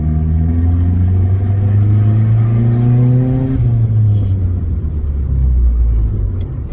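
Turbocharged Mitsubishi 4G15 Mirage engine with a GT35 street turbo and blow-off valve, revving loud and close: the drone climbs steadily, drops off sharply midway, then settles back through a lower hum.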